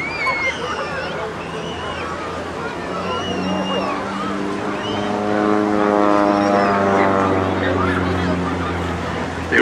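Pitts Special aerobatic biplane with a propeller engine flying at the Teignmouth seaside airshow, its buzzing drone swelling and shifting in pitch as it passes, under crowd chatter and a commentator's voice.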